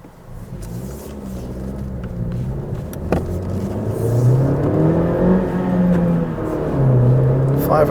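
A Honda Civic Si coupe (2017-2020) pulls hard in first gear up to about 5,500 RPM: the engine note climbs steadily and loudly, with a rising whine heard from inside the cabin.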